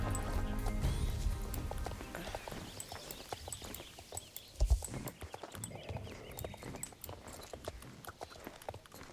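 A horse carries a rider at a gallop in a video game, its rapid hoofbeats clattering in a quick, uneven rhythm over a background of music, close and fairly loud from start to finish.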